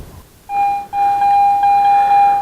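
A Garrett metal detector sounds a clear, loud, steady electronic tone during a search on old roads, starting with a short beep, pausing briefly, then holding a sustained pitch to the end.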